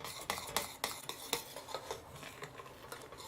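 A spoon scrapes and knocks around a pot of creamy grits as they get a final stir, with irregular clinks and sliding strokes up close and no talking.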